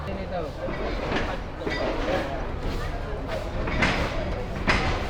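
The Jamuna Express passenger train runs toward Dhaka on an old Bangladeshi line, a continuous rumbling, rattling roar with rhythmic wheel clatter, heard from on board with voices faintly under the noise.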